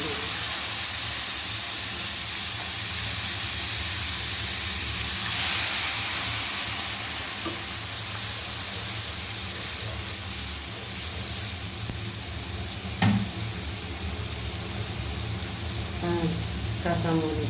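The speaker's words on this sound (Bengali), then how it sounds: "এবার বাদাম আর নারিকেল বাটাটা দিই।" Nut and coconut paste sizzles steadily in a hot pan with a constant hiss, and a voice talks faintly over the frying.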